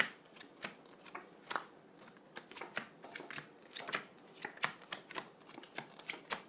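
Tarot cards being shuffled by hand, a steady run of crisp riffling flicks and soft slaps close by, with no voice over them.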